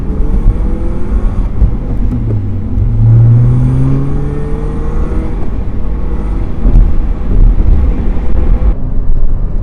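A learner driver moves a car off through Enfield streets on a mock driving test, engine note rising steadily as it accelerates and then holding a continuous hum with road rumble, close and fairly loud throughout.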